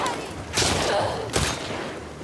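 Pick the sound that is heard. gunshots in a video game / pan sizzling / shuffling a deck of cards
gunshots in a video game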